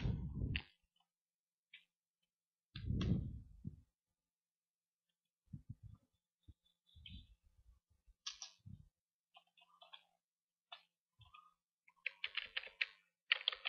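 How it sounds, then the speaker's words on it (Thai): Computer keyboard typing while entering text in desktop e-book software: scattered bursts of key clicks and short clattering runs, close and fairly quiet, with gaps of silence between. "เราพิมพ์ข้อความลงไป"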